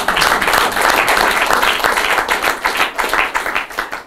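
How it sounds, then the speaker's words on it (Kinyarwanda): Audience at a Thanksgiving talk show applauding, dense and steady clapping from many hands, loud and close, fading slightly toward the end. "uyu muntu akwiye amashyi rwose"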